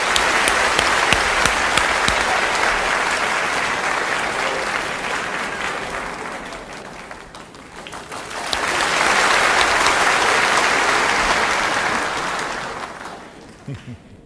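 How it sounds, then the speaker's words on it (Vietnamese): An audience at a Vietnamese comedy stage show claps loudly and steadily, a dense wash of applause that dips briefly and then swells again before fading. "Xin quý vị một tràng pháo tay thật kêu giới thiệu Rick Murphy."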